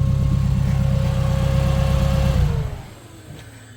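A Lamborghini Huracan engine with a titanium HMD exhaust rumbles loudly and deeply at steady revs, then drops off as the throttle is released, leaving a quieter fading tail.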